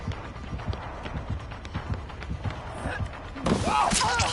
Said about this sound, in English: she heard my footsteps, so she changed directions